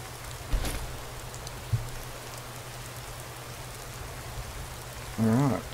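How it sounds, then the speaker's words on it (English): Rain falling in the video game Skyrim SE, a soft, continuous wash of drops over a low hum, broken by a couple of brief knocks and ending with a short tonal burst. "Of course it's raining"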